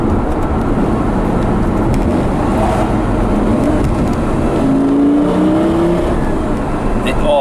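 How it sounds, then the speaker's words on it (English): Lamborghini Gallardo (pre-LP) with e-gear transmission, engine note rising and falling through downshift blips, loud and close in a continuous drone with wind and road noise. "You know what's even nicer are the big downshifts. When you're downshifting with the e-gear,"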